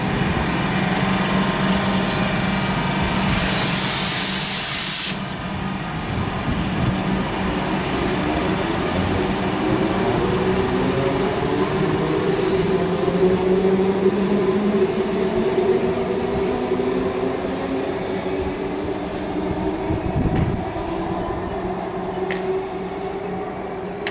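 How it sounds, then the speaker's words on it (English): At Clayton station in Melbourne, a train passes on an elevated skyrail line with a sustained rumbling roar and shifting whine. Brief sharper squeals cut in partway through, with no talk. "One can actually see the lights of the next train coming from that direction"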